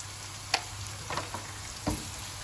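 Onions sizzling in a pan, the first step of a prawn sambal: a faint, steady frying hiss with a few soft stir scrapes and light taps scattered through it, and no voices.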